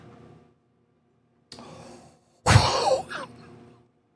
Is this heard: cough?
yes